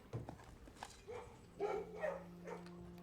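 A dog in the video game Blue Prince barks and whimpers softly in a few short yips, faint and close, with a low steady hum underneath.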